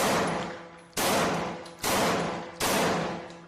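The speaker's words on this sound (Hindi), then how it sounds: "उन्होंने कलकत्ता विश्वविद्यालय के दीक्षांत समारोह हॉल में बंगाल के गवर्नर स्टैनली जैक्सन पर नजदीक से 5 गोलियां चलाई।" Gunshots fired at close range, four loud sharp bangs spaced about a second apart, each with a long ringing decay.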